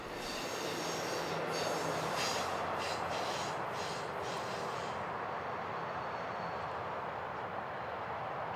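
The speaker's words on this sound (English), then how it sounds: "this Pacific Surfliner made its way by CP Capistrano" An Amtrak Pacific Surfliner passenger train passes close at Capistrano, a loud continuous roar with high, shrieking wheel squeal that rings out strongly and then drops away, leaving the steady rumble alone.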